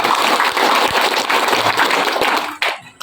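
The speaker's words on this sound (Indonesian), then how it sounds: "Mari aplaus untuk kita semua." Audience applause at a campaign event, a dense sustained wash of many hands clapping close and loud, thinning out near the end.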